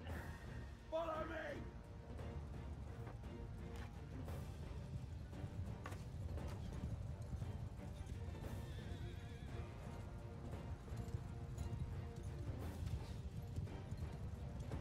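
Horses in Mount & Blade 2 Bannerlord gallop through a wooded battle, a steady, close clatter of hooves with a sharp whinny near the start, while someone talks over the action.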